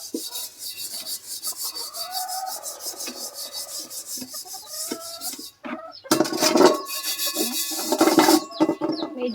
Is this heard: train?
no